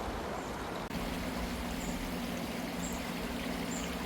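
A stream in Barnsley flows continuously nearby in a broad, steady rush of water, with a faint low hum running beneath it.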